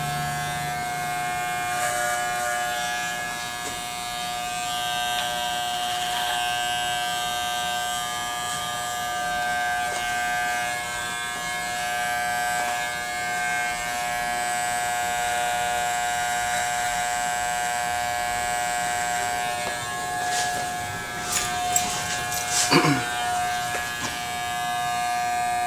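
Electric hair clippers buzz steadily through a barber haircut with guards, a loud continuous drone that wavers slightly as the blades glide over hair, ending with a few brief clicks and handling noises.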